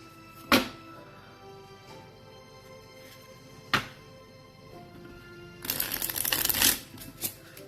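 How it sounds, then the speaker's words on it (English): A deck of cards shuffled at a board game table: two sharp isolated snaps of the cards early on, then a fuller riffle-and-bridge burst near the end, close and crisp against a quiet room. "I really do enjoy shuffling cards."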